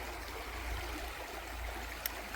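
The River Fowey flows through Golitha Falls on Bodmin Moor in Cornwall, heard as a soft, steady rushing babble with low rumbling and a brief splash near the end.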